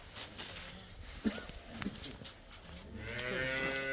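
Cattle on a dairy farm lowing, with several moos rising in the second half of the clip over steady farmyard background noise; a cow bellows loudly and close near the end.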